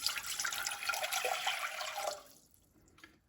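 Water pours steadily from a tap or jug into a pot for cooking river snail rice noodles, a splashing rush that stops abruptly, leaving a few faint drips.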